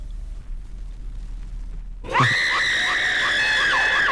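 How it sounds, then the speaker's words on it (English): A loud, sustained scream of a tormented soul in hell on Judgment Day, used in a 1976 film, erupts abruptly after about two seconds of near silence and holds steady with a wavering, harmonic-rich wail. "the scream you have just heard is the sound of a tormented soul in hell on Judgment Day"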